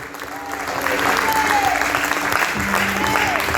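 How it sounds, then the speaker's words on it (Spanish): A church congregation breaks into loud, sustained applause, a thick mass of clapping with faint voices and cheers rising through it. "Si le va a aplaudir, apláudale muy fuerte."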